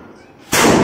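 Firecrackers set off by colony children during Diwali, one sharp loud burst breaking in halfway through after a quiet, low background and continuing as a bright crackle.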